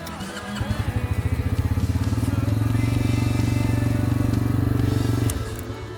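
A Yamasaki YM50 50cc motorcycle engine cranks and catches, then idles steadily with a fast, even putter before cutting out near the end.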